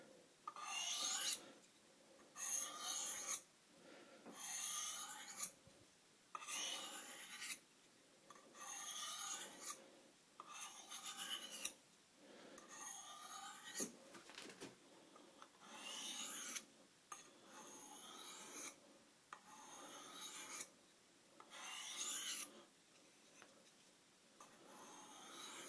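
A kitchen knife being sharpened freehand on a sharpening stone with very light strokes, a quiet rhythmic rasp that repeats about every second and a half to two seconds, close and alone without voices.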